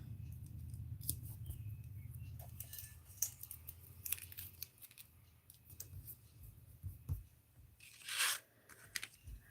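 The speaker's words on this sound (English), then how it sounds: "So I'm just going to tape this down to my mat." Tape is pulled off a roll and torn in quiet crinkly bursts to hold paper down on a crafting mat, close and soft over a low background hum.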